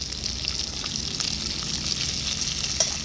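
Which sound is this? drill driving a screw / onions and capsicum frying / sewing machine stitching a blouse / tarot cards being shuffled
onions and capsicum frying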